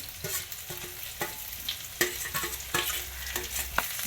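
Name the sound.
mixing tomatoes and coriander in a pan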